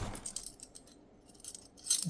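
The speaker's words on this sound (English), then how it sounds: "Allen wrenches" A set of Allen wrenches from a Fucare Scorpio fat tire e-bike kit jangles and clinks lightly while being handled, in soft scattered bursts with a quiet pause in the middle.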